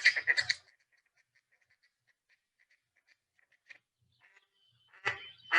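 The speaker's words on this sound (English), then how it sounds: "I've chosen the sound of a mallard. So this is what you're going to hear." Mallard duck quacks play from a phone bird app: a faint, quick run of soft, evenly spaced calls, framed by louder handling noise at the start and end.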